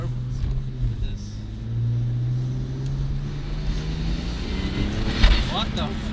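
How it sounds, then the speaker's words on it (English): A BMW 335i twin-turbo running original turbos spools up under load, a steady engine drone building with rising intake and turbo whine. People talk over the engine noise. "That's spool. No, that's spool. That was instant."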